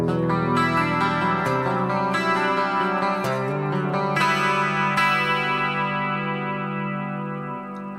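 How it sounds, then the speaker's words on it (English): An electric guitar through the Jeff Beck humbucker pickup on a clean tone plays ringing chords and notes with a shimmering, effected sustain, ending in a slowly decaying final chord. "So this is the humbucker, the Jeff Beck"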